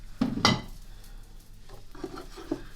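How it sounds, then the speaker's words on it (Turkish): Plate rim pressed and drawn along the edges of rolled gözleme dough, trimming off the excess: a couple of soft scraping knocks near the start, then lighter rubbing and tapping against the board, close and quiet. "Şöyle bir tabağın kenarıyla böreklerimizin kenar kısmını alıyoruz."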